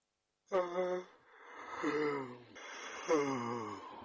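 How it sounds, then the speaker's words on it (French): Two long, drawn-out yawns with a voiced, groaning tone, each starting with a sharp intake and trailing off slowly, close and fairly loud. "Le bâillement dont il s'agit est un geste naturel et involontaire"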